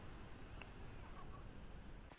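A rooster and chickens in the farm game Ranch Simulator give a few faint, brief clucks amid a steady low background hum.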